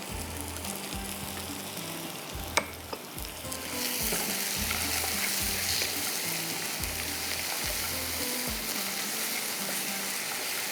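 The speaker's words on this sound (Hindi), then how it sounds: "यहाँ पर हमारा चिकन भी जो फ्राई हो रहा है, इसको मैं ज़रा सा टर्न कर लेती हूँ" Chicken frying in a pan for a Dumpukht Murgh recipe, a dense continuous sizzle that swells louder partway through, with a sharp clack and a low rhythmic thumping underneath, close and steady.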